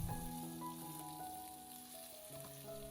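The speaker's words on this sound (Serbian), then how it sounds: "Kada se ulje dobro zagreje, staviti meso i peći sa jedne i sa druge strane dok lepo ne porumeni." Pork neck fries in hot oil, giving a quiet, continuous crackling sizzle with a faint tonal background mixed in.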